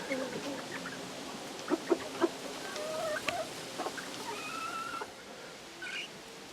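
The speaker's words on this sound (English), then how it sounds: "These are two cochins from the last batch of chickens that I bought" A pair of Cochin hens in a backyard coop cluck softly, with a few sharper short calls and rising notes scattered across a few seconds, fairly close and with no voices.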